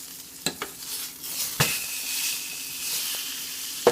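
Pork chop frying in a pan, with a steady hiss of sizzling fat, a few sharp clicks and taps of a utensil as it is flipped, close and fairly loud throughout.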